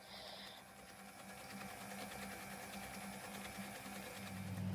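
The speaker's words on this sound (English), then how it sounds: "So I've got my butter and my sugar on my mixer. I'm going to beat it up until it's well combined." An electric mixer beats butter and sugar for an eggless banana and chocolate cake, giving a steady mechanical whir with a rattling motor hum that runs continuously and builds slightly louder toward the end.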